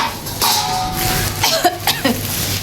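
A person coughs from dust several times in quick, rough bursts, close and loud, with some throat clearing mixed in.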